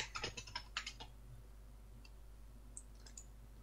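Fingers typing on a computer keyboard, a quick cluster of about eight close clicks at the start, then a few sparse faint taps over a low steady hum.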